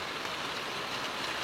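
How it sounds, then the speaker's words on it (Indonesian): Heavy rain falling steadily on an outdoor chili pepper plot during the rainy season, a dense, even wash of hiss that fills the whole moment without a break, no voices. "Nah, hujannya udah mulai besar ya teman-teman. Bisa terdengar."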